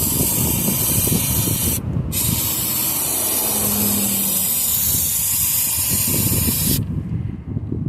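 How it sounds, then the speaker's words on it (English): Brake cleaner sprays onto an ATV skid plate in long, loud, steady hissing bursts, broken by one short pause near the start and fading out at the end. "Before we go to filling it, brake clean. I'll clean the top side of that skid plate."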